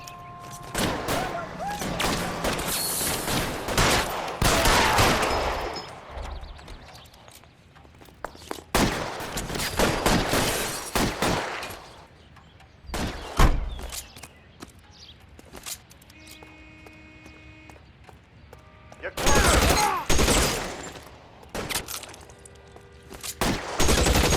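Gunfire during a shootout in L.A. Noire: bursts of rapid shots come in several clusters, loud and close, separated by quieter stretches, with a voice briefly heard between volleys.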